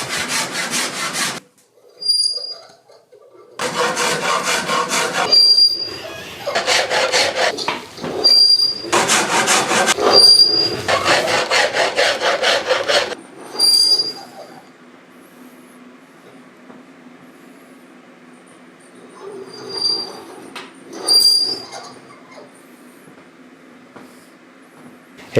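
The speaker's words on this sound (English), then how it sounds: "removing with my rasp, and then sanding it down to smooth" Several bursts of harsh, scraping strokes from a rasp and sandpaper on a wooden longbow, close and loud, separated by pauses, followed by quieter handling noise.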